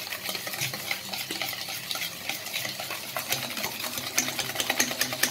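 Cookie batter of flour, baking powder and baking soda being stirred briskly in a bowl, rapid rhythmic scraping and tapping close by with no voices.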